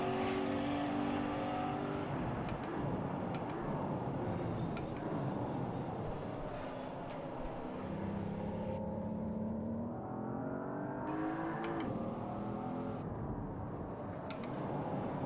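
A race car engine in a racing video game revs hard through repeated upshifts and downshifts, a continuous close whine rising and dropping with tire and road noise beneath.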